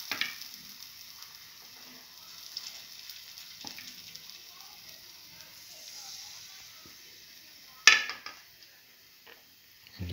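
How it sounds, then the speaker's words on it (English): Cinnamon pancake batter frying in a pan, a faint, steady sizzle running throughout with a single sharp clatter near the end. "And let it fry."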